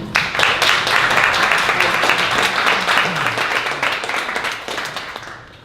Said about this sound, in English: let's stand up one more time and give him a round of applause